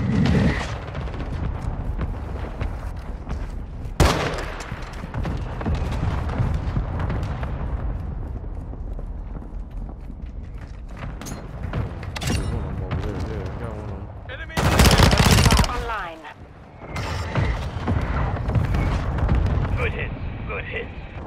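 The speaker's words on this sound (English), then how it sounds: "Requesting fire mission. Target. Copy that. Mortar strike inbound now." A mortar strike in Call of Duty Modern Warfare 2 rumbles through sustained game gunfire and explosions, with a loud burst of blasts midway, while players talk over the din.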